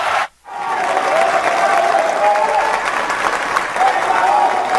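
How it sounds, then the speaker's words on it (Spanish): Sustained applause from legislators in an assembly chamber, loud and dense, rising after a brief pause and holding steady, with voices faintly mixed into the crowd noise. "quiero pedirles 1 minuto de aplausos en reconocimiento a la labor del bloque de"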